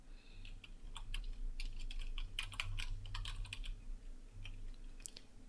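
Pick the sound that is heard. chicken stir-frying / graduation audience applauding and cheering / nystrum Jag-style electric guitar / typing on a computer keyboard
typing on a computer keyboard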